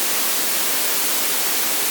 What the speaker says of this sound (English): now we've removed some of those low frequencies from the white noise